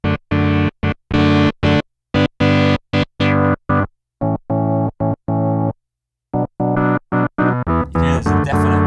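Roland synth flipping between Jupiter 8 and Juno 106 filter models: a run of short, punchy, rich chord stabs in a rhythmic pattern, loud and close, with the tone turning brighter and noisier toward the end.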